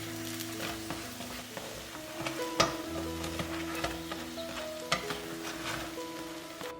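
A scallion pancake fries in a pan, a soft steady sizzle with scattered light ticks and scraping taps from turning it, fairly quiet and without voices.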